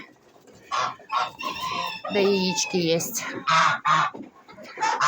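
Bantam hens cluck and squawk loudly and close, a busy run of calls, while a person talks over them.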